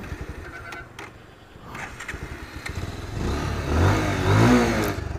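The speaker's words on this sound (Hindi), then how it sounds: "तो चलो, हम ऐसे करके बाइक चलाएंगे" A Bajaj Pulsar 150 motorcycle engine idles unevenly, then rises into louder revving as it pulls away, close and without speech.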